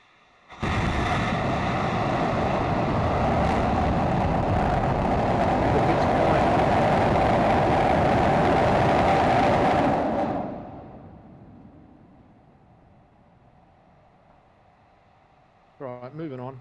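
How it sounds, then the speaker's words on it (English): Starship 24 rocket engines ignite on the launch table with a sustained, thunderous roar lasting about ten seconds, then fade into a long rumbling decay and near silence before a short burst of voice. "That's just that ignition point for the Starship 24, and it made a bit of a mess."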